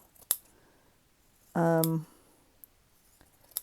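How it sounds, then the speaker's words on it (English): Scissors cut along the seam of a dress with a single close snip that holds briefly in a buzzing, rasping slice, framed by a few faint clicks and handling taps in a quiet room. "I'm going to cut it up a seam"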